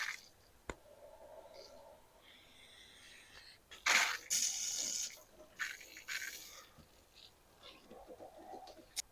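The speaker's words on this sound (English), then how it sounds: "I stuck the vinyl hose on the end of my garden hose," Water from a garden hose fitted with a vinyl hose gushes through a Jeep heater core in bursts, loudest in a rushing surge midway, with a sharp click early and quieter trickling and hissing after.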